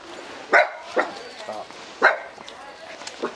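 A dog at a house in rural Vietnam gives several sharp barks spaced about a second apart, moderately close, with people talking in the background.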